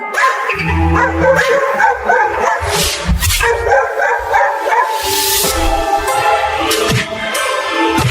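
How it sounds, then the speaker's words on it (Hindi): Cartoon dogs bark and yip repeatedly and loudly in front of a wooden house, overlapping one another in a busy, continuous stretch with a dense background of other sound. "वो कुत्ते उस लकड़ी के घर के सामने भौंक रहे हैं"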